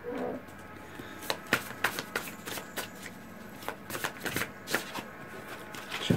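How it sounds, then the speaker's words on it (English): A deck of tarot cards being shuffled close up, with quick, crisp riffling flicks and soft slaps coming in short bursts over quiet room tone. "I'm going to pull you an outcome card now,"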